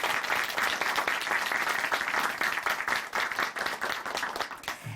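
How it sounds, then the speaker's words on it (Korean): A church congregation claps steadily together during a Korean Christian testimony broadcast, a dense, even wash of applause that holds at full strength and thins slightly near the end. "다시 한번 박수 보내드리겠습니다"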